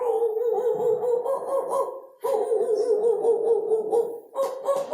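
A man imitates street dogs with his voice, producing three long, sustained howling cries separated by short breaks, loud and close with no other sound.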